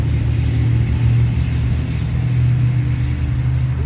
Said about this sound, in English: these loud ass trucks, bro.